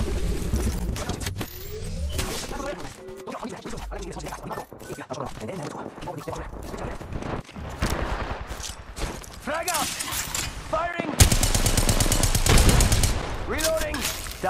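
Gunfire from the battle royale video game Apex Legends, loud repeated shots and bursts crackling through a busy mix of game sounds, with a person talking over much of it.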